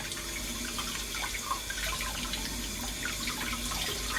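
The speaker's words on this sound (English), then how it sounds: "I'm going to unplug the sink and give this a good rinse now under the tap" A vinyl record is rinsed under a running sink tap, a steady close rush of water with small splashes shifting as the disc moves through the stream.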